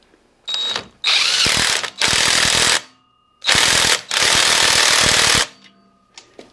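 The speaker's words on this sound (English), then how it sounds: "We'll use this trusty Harbor Freight impact wrench." A Harbor Freight half-inch impact wrench runs in several loud, close bursts of rapid hammering rattle, each lasting about a second or more, separated by brief silences.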